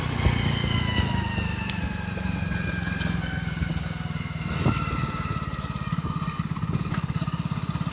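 A motorcycle ridden along a village road on a freezing cold day, its engine droning steadily and close with a rhythmic low thrum, rising slightly as speed builds.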